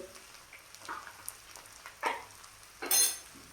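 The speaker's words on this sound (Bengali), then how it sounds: "দিয়ে এটাকে আরেকবার ভালো করে ভেজে নেব।" Pointed gourd frying with coriander and cumin powder, a low sizzle broken by several stirring scrapes and a louder clatter near the end.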